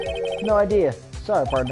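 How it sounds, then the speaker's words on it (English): A cell phone ringtone rings in the Phoenix Wright video game as a short, bright, warbling electronic melody, heard under a voice. "I heard a phone ring just now. One of those newfangled ringtones."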